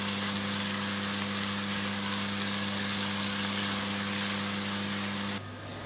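Onions frying in mustard oil with bay leaf, cinnamon, cardamom and salt in a cooking pot give a loud, steady, close sizzle that runs unbroken, then drops off sharply just before the end.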